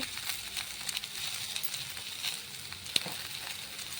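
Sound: ginger and cumin powder frying in a pan

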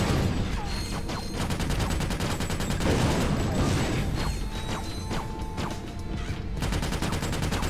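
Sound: gunfire from a video game

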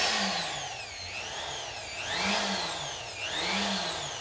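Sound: rotary tool running

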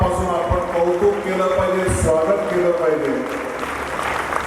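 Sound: audience applause at a literary conference speech

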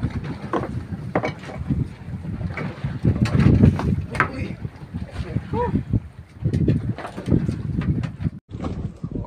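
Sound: strong wind and big waves at sea from a boat

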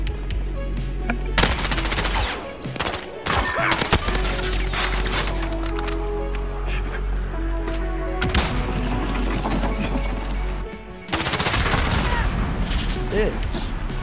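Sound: gunfire in video game Call of Duty: Modern Warfare

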